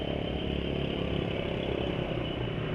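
An automatic scooter rides over a bumpy, wavy road with its rear suspension working, giving a steady, close engine drone with rattling clatter and no pauses.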